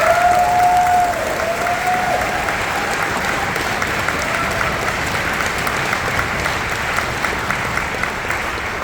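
Sustained audience applause for high school honors band students at an all-county concert, a dense steady clatter of many hands filling the hall for the whole stretch, with a faint voice or tone briefly at the start.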